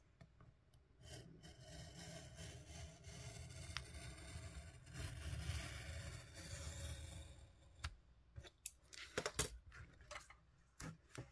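A craft blade drawn along a ruler cuts through paper, a steady close rasping scrape lasting several seconds, followed by a few clicks and knocks as the tools are handled.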